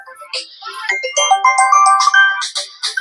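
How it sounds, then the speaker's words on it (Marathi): A mobile phone ringtone plays a bright, melodic electronic tune of rising notes, close and fairly loud, with brief voices around it. "आता कोणतं फोन आलाय?"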